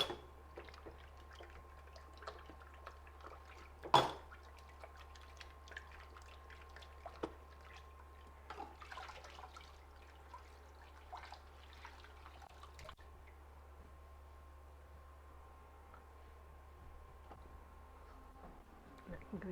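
Washing up in a bowl of hot soapy water, with faint splashes, drips and clinks scattered over a long quiet stretch and one sharper knock, close but soft.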